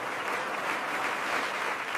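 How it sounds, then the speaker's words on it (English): Applause from an auditorium audience at a business innovation competition's winner announcement, a dense, steady wash of clapping that fills the hall without a break. "The auditorium erupted in applause."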